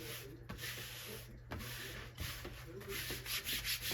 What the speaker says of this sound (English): I'm just going to go ahead and stick it on here and smooth it out